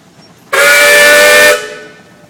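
A steam whistle on a 1923 Case 50 horsepower steam engine gives one loud, steady, harmonic blast lasting about a second, then cuts off and leaves a short fading ring.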